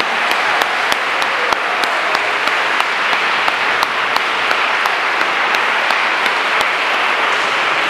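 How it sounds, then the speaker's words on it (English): A church congregation applauds young first communicants at a First Holy Communion, sustained loud clapping from a large crowd, with a few sharp individual claps standing out near the recording point, no talk. "Give a great applause for these young people for the first time."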